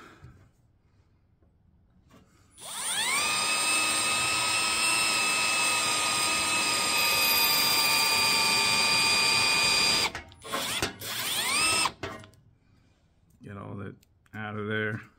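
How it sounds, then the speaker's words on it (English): Electric drill with a 5/32 bit boring into an intake manifold, a long loud whining run that winds up and holds steady, then stops in short bursts and revs. "The drill bit of choice is a 5/32."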